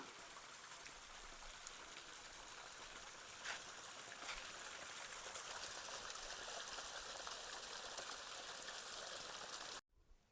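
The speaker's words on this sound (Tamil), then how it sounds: "தண்ணி அற்புதமாக போகுது பாருங்கள்" A mountain stream flowing on a hillside path, a steady broadband rush and trickle of water heard close and continuous, ending with an abrupt cut near the close.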